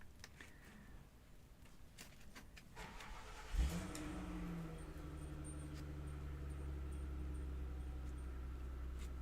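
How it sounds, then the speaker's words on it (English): A car engine cranks and catches with a sharp burst, then settles into a steady low idle and rumble that continues as the car begins to move. It follows a stretch of quieter background noise. "She's starting the car."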